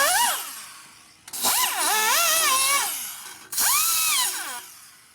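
A rotary deburring tool works the intake edge of an aluminum cylinder head on a 1952 Harley panhead 74ci engine, its high whine rising and falling in pitch across three close, loud bursts separated by short pauses.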